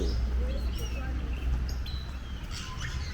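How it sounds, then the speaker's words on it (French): Birds in an aviary at Abidjan Zoo, scattered short chirps and whistles at a moderate distance over a steady low background hum, with faint voices in the surroundings. "Il y a un lot d'oiseaux ici."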